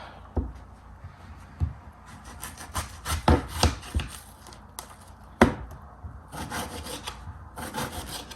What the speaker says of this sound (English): Then I'll be cutting the onion